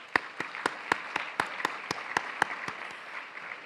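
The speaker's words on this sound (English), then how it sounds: "I think that deserves a round of applause" A luncheon audience at a housing award event applauds, a soft distant wash of clapping with a few louder, distinct claps popping out at a steady pace.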